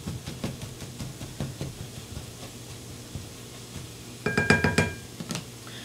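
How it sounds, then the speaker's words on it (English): Burrito filling with cheddar gets stirred in a pan, a spoon scraping and clinking against the metal in quiet, irregular strokes, with a quicker cluster of clinks near the end. "Let's give this a little stir over here."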